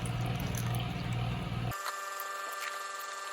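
Water runs steadily from a tap or watering can onto potted rosemary cuttings for under two seconds, then cuts off abruptly, leaving a quiet tonal background hum.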